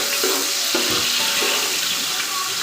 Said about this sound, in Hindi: तो प्याज को हमने सुनहरा होने तक प्याज को अच्छे से फ्राई कर लेना है, हाई फ्लेम पे चम्मच चलाते हुए